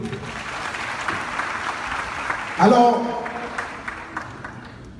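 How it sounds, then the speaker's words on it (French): Audience applauding at an event in a hotel hall, continuous clapping under a voice through a microphone, with a brief loud burst of cheering midway. "Je vous demande de bien vouloir vous applaudir"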